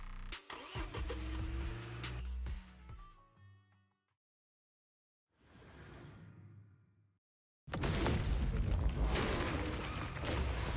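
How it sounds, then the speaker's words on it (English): A truck engine cranks and starts in the video game Zenless Zone Zero. Rattling starter noise comes first, then a quiet stretch, and the engine catches into a loud, rough, steady roar. "Piper, start the truck!"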